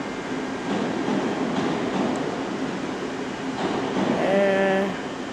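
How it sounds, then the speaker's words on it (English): A London Overground train pulls out of London Liverpool Street station, its steady rumble filling the platform at moderate loudness with a brief rising tonal whine near the end; background station ambience and faint talk underneath. "Okay, departing now is a London Overground"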